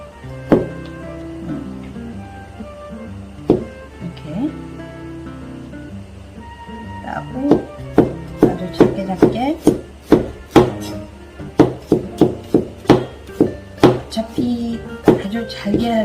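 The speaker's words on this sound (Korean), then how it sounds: "저는 마늘 썰 때 항상 이런 식으로 돌려가면서 썰거든요" Knife chopping peeled garlic cloves on a cutting board, close and loud: sparse separate strikes at first, then a quick run of sharp, rhythmic chops over faint background music.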